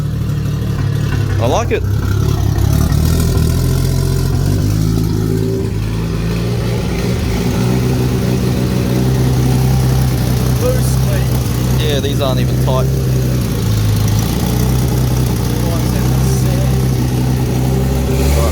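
Toyota Chaser idling with a newly fitted side-exit exhaust, a steady low engine rumble running throughout at moderate loudness while people talk nearby.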